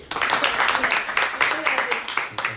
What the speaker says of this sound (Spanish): Un aplauso para él